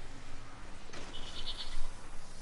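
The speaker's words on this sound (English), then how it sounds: "Did I just hear a goat?" A goat bleats once, briefly and fairly distant, inside a PS4 shooter game, heard over a dense bed of game background noise.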